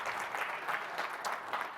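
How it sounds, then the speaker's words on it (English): An indoor audience claps steadily for a guest walking up on stage at a business talk. The applause is dense and even, loud and close, and carries through the whole moment without any voices over it. "Give him a round of applause."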